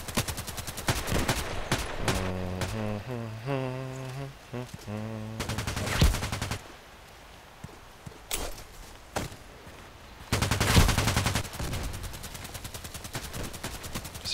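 Enforcer automatic weapon firing in a shooter video game, rapid bursts of loud gunfire in several volleys separated by short pauses, mixed with game music and effects.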